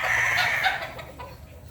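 A bulik gamefowl rooster at a breeders' gameyard gives a short throaty cluck that fades out, close by, with a faint farmyard background and no clear talking.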